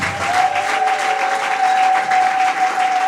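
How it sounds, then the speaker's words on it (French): A church congregation at a Sunday worship service claps and cheers together, a dense sustained burst of applause filling the hall with a steady tone ringing underneath. "Si nous pouvons donner des acclamations à notre Dieu"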